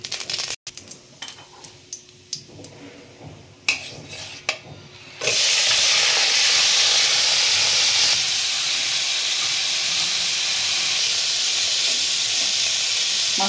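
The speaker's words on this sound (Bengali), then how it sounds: "আমার গরম হয়ে গেছে, অল্প তেল দিয়ে আমি মাছটা সাঁতলে নেব।" Fish sautéing in a little hot oil in a kadai for prawn malai curry, starting with a few quiet clinks and stirs before a loud, steady sizzle bursts in and hisses continuously to the end.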